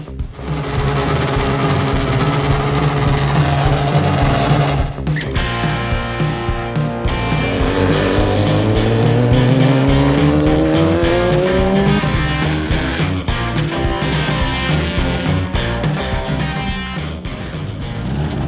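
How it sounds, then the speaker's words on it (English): An F3 open-wheel race car driving flat out on a track, a loud high-revving engine that climbs through the gears with shifts and sweeps as it passes, with no talk. "So just had my first run out in the F3 car, my first proper run in an open wheel car here at the track"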